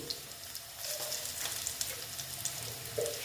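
Fried potatoes sizzle softly in a pan on low heat as cumin powder goes in, a quiet close crackle with scattered light pops and scraping, no voices.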